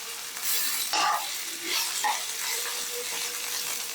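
Two large chopped onions sautéing with ginger garlic paste and a little salt in a pan, with a steady sizzle under repeated stirring scrapes, close and moderately loud, no talking.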